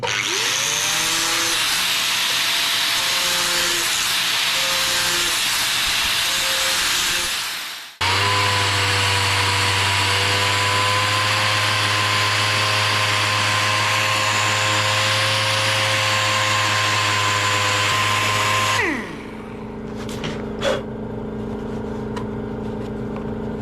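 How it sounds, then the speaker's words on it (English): An angle grinder cuts a bracket off a motorbike on an adventure bike build, loud and close, with a steady high whine that drops briefly, winds back up under load, then spins down to quiet with a few small knocks. "Let's grind that off and tidy it up."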